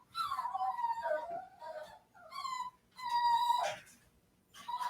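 A litter of puppies whimpers and whines in several high, wavering bursts separated by short pauses, close by and fairly quiet, with no talking.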